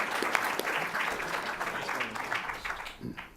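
A crowd at a panel discussion on the crisis in Syria breaks into a steady round of applause, dense clapping that holds for about three seconds before thinning at the end.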